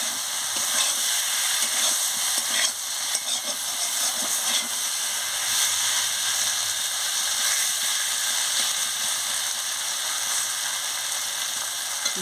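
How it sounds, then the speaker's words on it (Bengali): Seeded bananas stir-fried in oil, a steady hissing sizzle in the pan with faint scraping and clicking from stirring, even and unbroken throughout. "দেখুন ভালো করে ভাজি নাড়িয়ে নিচ্ছি ভালো করে ভাজা হয়ে গেলে হয়ে যাক"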